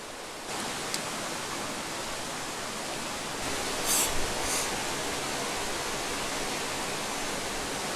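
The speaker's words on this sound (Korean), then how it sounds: "계곡의 물은 멈추지 않고 흐르며 숲을 자라게 하고" Water in a mountain valley stream in Jirisan's primeval forest rushes steadily, a soft continuous broadband wash that stays even from start to finish, with no voices present.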